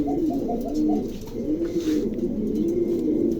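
A male pigeon coos steadily and close by inside a cage, its low rolling calls repeating without pause and with no talking.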